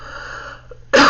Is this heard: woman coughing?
yes